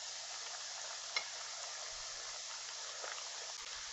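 Ghanaian tomato stew base cooks and browns in a pot with a soft, steady low sizzle, faint and even throughout, broken by a couple of tiny ticks.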